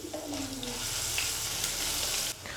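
Chopped ginger frying in hot oil in a pan for rava upma, with cashews and chana dal already in, giving a steady close hiss and crackle of sizzling oil, no talking.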